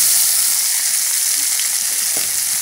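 Chopped onion, garlic and green chili with cumin seeds and bay leaf sizzle steadily in hot oil in a pan, a continuous close frying hiss with no talking.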